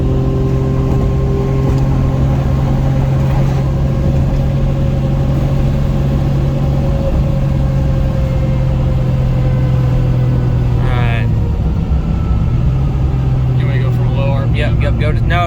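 A Toyota Supra engine revs to a 7,600 RPM limiter with coils that struggle under load, making a loud, sustained high-pitched drone close by. A person talks over it.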